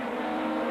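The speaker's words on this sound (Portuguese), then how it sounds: "Aí passa o carro do Fineschi" A race car at a 1999 Superturismo Sudamericano touring-car round at El Pinar, Uruguay, roars steadily past at close range in a brief, loud burst of engine tone.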